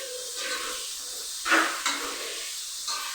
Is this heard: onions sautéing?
yes